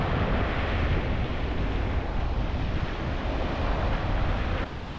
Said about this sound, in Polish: Z drugiej strony jest plaża nad Zatoką Pucką.